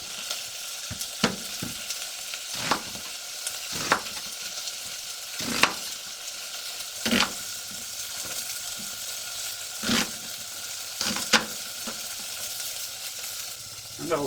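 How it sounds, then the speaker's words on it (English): Lamb pieces browning in a hot pan give a steady close sizzle, broken by several sharp scraping stirs of a utensil against the pan. "Give the lamb a quick stir. As I say, we're just lightly browning."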